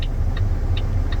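A semi truck's engine idles in cold weather while warming up, producing a steady low rumble with faint rhythmic ticks repeating about every 0.4 seconds.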